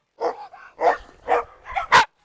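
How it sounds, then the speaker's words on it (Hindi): A Rottweiler and other dogs in a pack growl and bark up close, with several rough, snarling bursts that build to one sharp, loud bark at the end. "अरे कॉपलान गुर्रा रहा है।"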